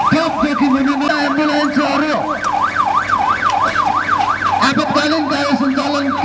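An ambulance siren wails loudly and steadily in a rapid rising-and-falling cycle during a district-level disaster drill in Kalikot, Nepal, with traffic rumble underneath.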